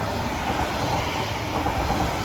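A Class 397 train, unit 397-006, passes Heald Green station with a close, continuous rumble of wheels on rail and faint clickety-clack, loud and steady throughout with no voices.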